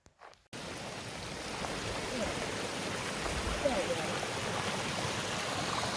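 Water rushes steadily over rocks in a creek along the Elk Cove and Pinnacle Ridge trails, a continuous close hiss that begins after a brief knock and holds constant.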